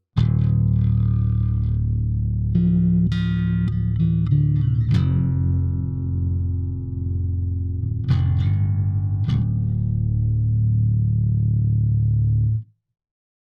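Bass guitar riff from a song, played with heavy distortion and effects; sustained, grinding notes shift through a slow repeating pattern, loud and alone, then cut off abruptly.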